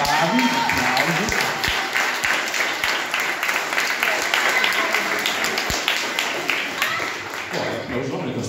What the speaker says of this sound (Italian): Poi applausone questa cosa